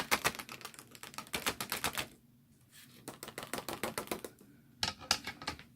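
A die cutting machine rolls a lace panel card through in one pass, giving rapid rhythmic clattering ticks in two bursts with a short quiet gap, close and moderately loud.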